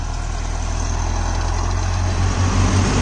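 A Mahindra Novo 605 DI CRDI 60 HP tractor runs in first gear at about 1500 rpm, a loud, steady low engine drone that continues unbroken throughout.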